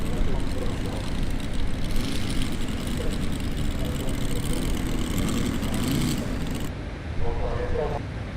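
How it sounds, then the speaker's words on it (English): An RC model plane with a jet-like engine roars past in a steady, broadband whoosh that swells and fades slightly, with a voice speaking briefly near the end. "look at that thing go. That goes quickly and it sounds like a jet engine too"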